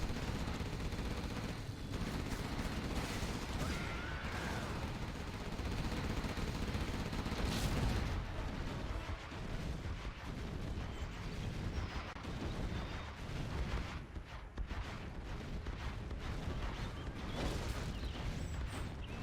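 Busy battle from Command & Conquer Generals Zero Hour, with Gatling tanks firing on technicals: dense, continuous rattling gunfire and blasts that stay fairly loud throughout, with no voices.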